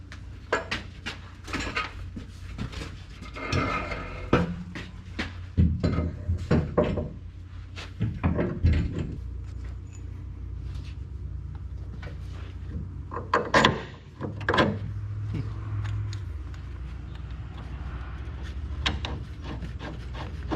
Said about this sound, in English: So now we're ready to lift the spring in.